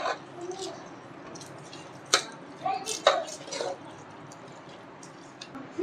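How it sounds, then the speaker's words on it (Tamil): Fried tempering being mixed into ven pongal, heard as scattered spoon knocks and soft squishy scrapes against the pot, with a few sharper taps standing out against a quiet background. "இப்போது இது எல்லாத்தையுமே நல்லா மிக்ஸ் பண்ணிக்கலாம்"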